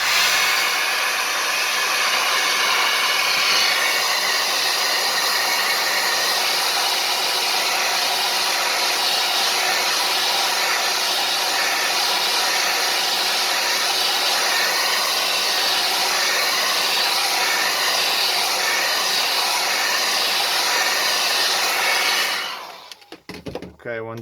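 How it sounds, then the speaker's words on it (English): A hair dryer blows hot air steadily onto the front glass of an LG Optimus L90 phone during screen replacement, a loud continuous rushing drone for over twenty seconds that cuts off at the end followed by faint handling clicks. "we're gonna help with the hair dryer to heat the front glass"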